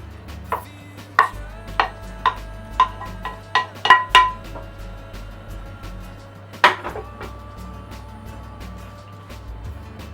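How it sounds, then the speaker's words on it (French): Aubergine pieces set down into a lined baking mould for a goat cheese clafoutis, a series of sharp close knocks and clinks in a quick uneven rhythm, then one louder knock after a pause over a quiet kitchen background. "vous allez disposer les aubergines dans le fond du moule"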